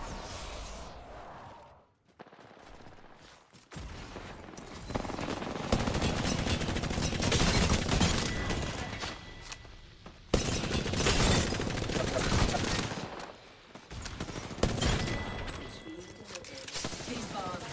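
Rapid bursts of Prowler fire in the game Apex Legends, loud and close, in dense automatic volleys broken by short pauses, with other game effects underneath.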